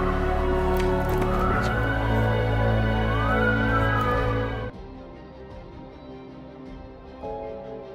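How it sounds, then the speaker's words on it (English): Police sirens wail with rising and falling sweeps over a deep, steady engine rumble near a gang's headquarters, loud at first, then cutting off abruptly into quieter background noise with a faint tone returning near the end. "he hears police sirens approaching Mutter's headquarters"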